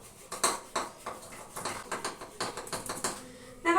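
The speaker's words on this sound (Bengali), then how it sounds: "দেখো ঘুটনি দিয়ে ভালো করে ঘুটে নিলাম" Cooked dal being mashed with a wooden masher in a pot, producing a steady series of close, soft clattering knocks and scrapes against the vessel, irregular but continuous, with a louder knock at the end.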